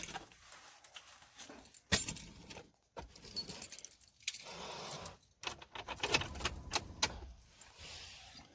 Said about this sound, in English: Pull out the keys and show you how it works.